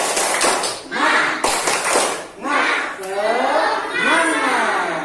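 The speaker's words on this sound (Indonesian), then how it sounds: "mari kita lakukan tepuk semangat" A school class performs the rhythmic spirit clap, tepuk semangat, with bursts of patterned group clapping close by, interleaved with loud chanted shouts from the children's voices.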